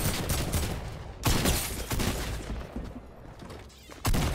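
AK rifle fire in Fortnite, a video game: several loud, sharp bursts of gunfire, with two heavy shots standing out against a continuous rattle of game sounds.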